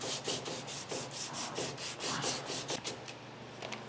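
Rhythmic back-and-forth sanding of body filler on a Mitsubishi Evo 8 car bumper, about a dozen steady rasping strokes, close and fairly loud.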